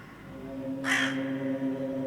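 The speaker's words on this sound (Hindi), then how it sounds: "कौवा उसकी आंखों में आंखें डाल के देखता है और आवाज़ें देता है" A single crow caws once, loud and close, over a steady low tonal hum in a tense nighttime horror setting.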